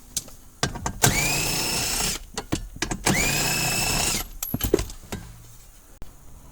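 A power tool backs four 10 mm bolts out of a cover plate on a Chevrolet Equinox or GMC Terrain. Two long, close, whirring driver runs rise in pitch, separated by rattling and clinks of the bolts being handled.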